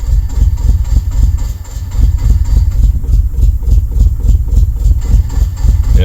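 A Ford XR5 4x4 turbo car engine idles roughly after a first start attempt, a loud, close, low throbbing with a steady, slightly uneven pulse.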